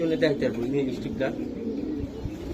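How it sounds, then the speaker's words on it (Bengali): A yellow-eyed female Fakir Gul pigeon coos in low, rounded phrases, close by, with someone talking over and around the calls. "এটা অরিজিনাল ফকির গুল কবুতর"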